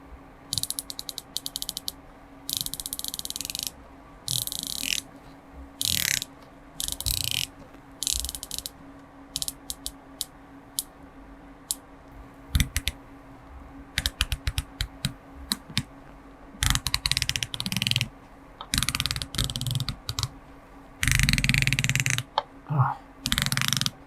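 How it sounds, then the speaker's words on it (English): Ceramic bezel of a Breitling Superocean 42 dive watch turned in bursts of crisp, rapid ratcheting clicks, close and alone, with short pauses between each run of turning. "Now let's check out that bezel action."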